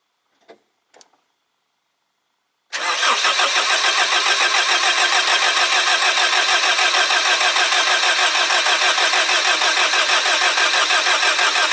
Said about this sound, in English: I go to start this engine